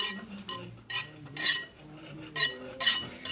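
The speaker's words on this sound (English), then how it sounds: "So he's whisking it." A whisk knocks and clinks rhythmically against a bowl while dry cupcake batter ingredients for s'mores cupcakes are combined, with repeated bright metallic strokes in bursts, close up.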